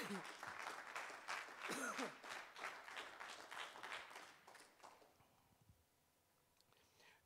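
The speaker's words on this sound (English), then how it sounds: "You can give God a hand clap." A church congregation claps together in a fairly quiet, dense round of applause that gradually thins and fades into near silence.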